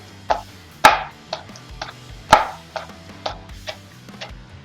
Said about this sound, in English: the next thing we need is we're going to do some green onion. We're going to chop these really small.